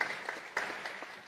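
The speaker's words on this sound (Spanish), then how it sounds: "Recibimos con un fuerte aplauso, señoras y señores, al presidente de la República de Panamá" Audience applause welcoming the President of Panama at the EU–Mercosur agreement signing ceremony, a brief, fairly faint burst of clapping with no speech over it.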